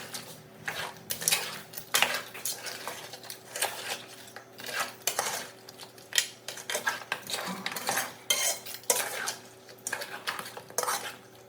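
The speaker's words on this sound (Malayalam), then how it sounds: "നന്നായിട്ട് മിക്സ് ചെയ്യുക" Cleaned crab is stirred into masala in a metal pan for a Kerala crab roast, with a spoon scraping and clinking rhythmically and repeatedly against the pan, close and loud, with no talking.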